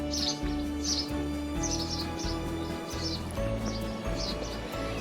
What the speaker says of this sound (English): lots of house sparrows in here